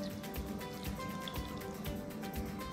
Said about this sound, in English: So first, we have to get the water and pour it in.